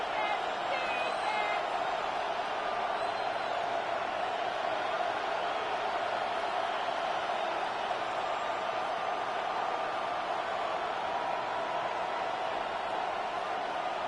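Stadium crowd noise in a Madden NFL football video game during a Baltimore versus Minnesota matchup, a steady roaring murmur of cheering fans that builds toward third down and runs continuously under faint background commentary.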